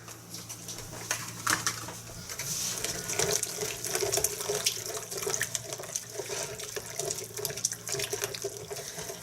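Steady stream of water pours from a tap into a pot, splashing and gurgling at moderate volume for several seconds, with a low hum underneath.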